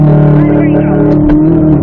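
Corvette C8 Z06 engine at full throttle on a track at Spring Mountain, a loud sustained engine drone held close, with a voice talking over it briefly.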